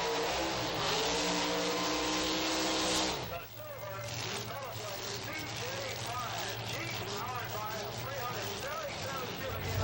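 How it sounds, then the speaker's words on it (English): A 27T Roadster drag car with a big block Chevrolet engine roars at a strip, a loud sustained engine drone that cuts off abruptly, leaving crowd and track noise with a low steady hum. "Carol Hines in the 27T Roadster, powered also by a big block Chevrolet"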